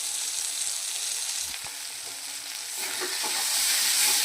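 Spice paste sizzles loudly in hot oil for an amudi fish curry, with a continuous hiss and the scrape of stirring growing slightly louder toward the end.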